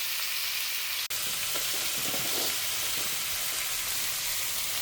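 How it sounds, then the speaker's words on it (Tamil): Ridge gourd sautés with onion and tomato in a pan, a continuous close sizzle with a brief break early on and light stirring scrapes. No one speaks. "அடுத்தாப்பில் நம்ம பீர்க்கங்காயை ஆட் பண்ணிக்கலாம். கொஞ்சம் நேரம் வதங்கட்டும்."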